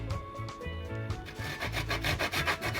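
Coconut is rasped against the finest side of a hand grater in quick, rhythmic back-and-forth strokes, close and clear, with no talking.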